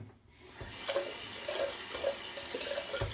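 Tap water runs steadily into a bathroom sink for rinsing after a wet shave, a continuous broadband splashing hiss at moderate level with a few soft knocks, no voices.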